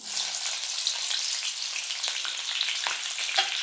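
Sliced green chillies frying in hot oil for a Maharashtrian bhadang recipe, giving a continuous, close, bright sizzle with scattered crackles and pops and no voices.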